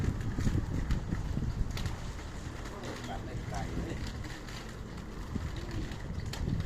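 Wind buffets the microphone while riding a bicycle outdoors, a continuous loud rumbling rush that swells and eases throughout, with voices faintly present.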